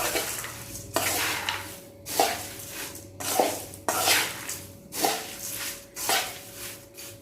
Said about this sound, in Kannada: ಈಗ ಇದಕ್ಕೆ ಮಿಕ್ಸ್ ಮಾಡ್ಕೊಳ್ತೀನಿ ಎಲ್ಲ ಒಳ್ಳೆ ರೀತಿ ಮಿಕ್ಸ್ ಆಗಬೇಕಷ್ಟೆ